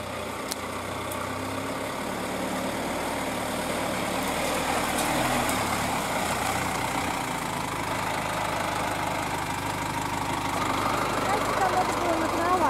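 A GAZ Sobol 4x4 van engine runs steadily while the van creeps slowly along a rough, muddy mountain ridge track, a continuous low drone with rumble throughout.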